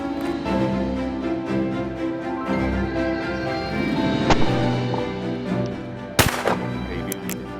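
A .410 shotgun fires at clay targets at a shooting ground, with a single sharp report standing out late over steady background noise.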